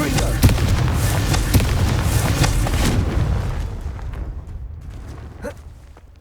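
A Confringo explosion spell in Hogwarts Legacy bursts with booming blasts and crackling debris, loud at first and then fading away over several seconds, with a faint later pop.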